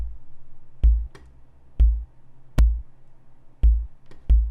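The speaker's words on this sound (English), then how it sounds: "if we play everything together, we get this kick that sounds like this." Layered synthesized kick drum built from combined Serum oscillators with an added knock, seven punchy low thumps in an uneven pattern, each with a sharp click on top over a faint low hum.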